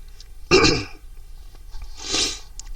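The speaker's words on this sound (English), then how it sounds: "I'm sneezing because it's, you know, we can't open the windows" Two sneezes from a person indoors with the windows shut, a sharp loud one early and a softer, breathier second about a second and a half later.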